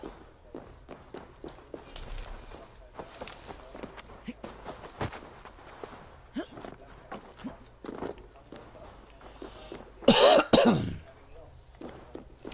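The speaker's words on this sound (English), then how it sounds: "Sorry about the coughing." Several short, sharp coughs erupt close by near the end, following a stretch of quiet shuffling and light footsteps.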